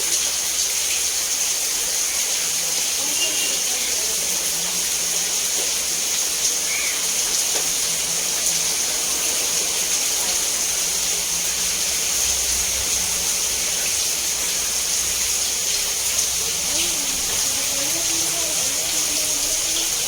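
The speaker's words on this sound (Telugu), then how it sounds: "ఈ వాటర్ అంతా మా ఇంట్లో" Floodwater flows continuously into a house, a steady hiss of moving water heard close by, with faint indistinct voices in the background.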